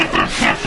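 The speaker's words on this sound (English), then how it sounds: "Pig, and the sound of pig." A pig grunts in one short, loud, rough snort lasting under a second, heard up close with no other sounds around it.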